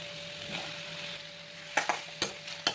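Vegetables being stirred in a frying pan for ridge gourd chutney: a soft steady sizzle, then a few sharp utensil scrapes and clinks against the pan near the end, close and fairly quiet.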